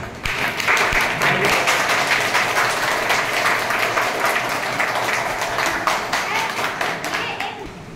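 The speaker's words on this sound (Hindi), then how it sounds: "जोरदार तालियों से इन सभी कैरेक्टर का हम लोग अभिवादन करें" An audience claps for the roleplay characters, giving sustained, loud applause with distinct individual hand claps that keep up an uneven rhythm for several seconds, with a voice faintly under it.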